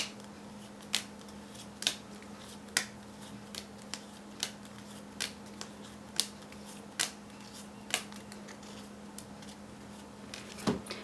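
Quiet, evenly spaced soft slaps and riffles of cards being shuffled, about a dozen crisp taps over a faint steady hum.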